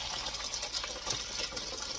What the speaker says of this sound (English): the first thing I'm going to do is strain my broth through this big colander